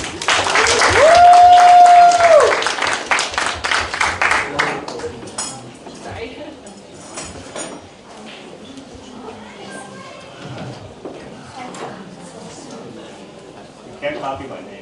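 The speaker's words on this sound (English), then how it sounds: "Round of applause, please, for Charlie." Audience applause at a debate event fills the opening seconds loudly, then fades into scattered clapping and murmuring room noise with some voices.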